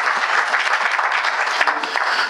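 A church congregation at the Influence Conference 2016 breaks into steady, full applause, many hands clapping together close by with no pause.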